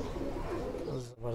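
Soft, throaty pigeon cooing close by, mixed with someone talking over it.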